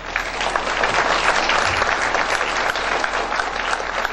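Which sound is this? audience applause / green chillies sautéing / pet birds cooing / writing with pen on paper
audience applause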